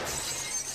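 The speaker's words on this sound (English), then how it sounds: "they hear a crashing sound like broken glass." Glass shatters in a short, bright crash that fills the moment with crackling noise, loud and close, with no voices present.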